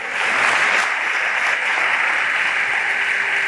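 Worshippers at FG Church, during an Urdu-language teaching on the rich man and Lazarus, clap loudly and steadily as one thick, unbroken roar of many hands, with almost no talk over it.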